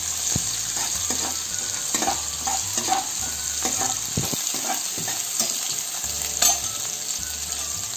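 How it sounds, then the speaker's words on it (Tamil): Sliced onion and garlic sauté in a pan with a pinch of salt for a Cuddalore-style fish kuzhambu, giving a bright continuous sizzle broken by irregular spatula scrapes and taps, close up and without talk. "இது கொஞ்சம் நேரம் நல்லா பொன்னிறமாக வரைக்கும் வதக்குறோம், வதக்குறோம்"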